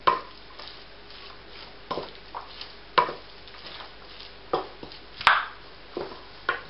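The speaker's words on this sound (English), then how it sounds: "We're going to stir that in." A spoon stirs diced ginger into a pot for Caribbean chicken curry, giving repeated scraping strokes roughly every second, each a short burst over a quiet low sizzle, with one sharper clink of metal.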